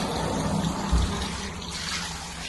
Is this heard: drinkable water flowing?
yes